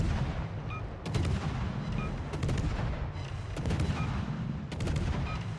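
Guns on a Pan-Asian tier 10 destroyer, the Lushun, firing in the naval game World of Warships, with repeated booming salvos in a steady rhythm about every 1.2 seconds over continuous low battle rumble.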